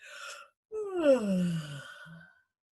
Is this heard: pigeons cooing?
no